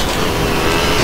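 Motocross bike engine in GTA San Andreas, a steady loud drone that holds throughout the short moment with no voices.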